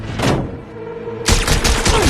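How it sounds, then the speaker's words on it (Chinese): Gunfire in a Hollywood action film: a short, sharp burst near the start, then after a brief lull a longer, loud volley of rapid shots, up close and without speech. "科尔听到枪声，连忙询问发生了什么。"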